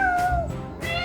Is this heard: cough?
no